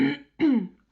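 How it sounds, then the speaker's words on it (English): A single person coughs twice in quick succession, close and fairly loud, each a short harsh bark with a throaty tail, followed by the start of a third. "just coughed my lungs out there"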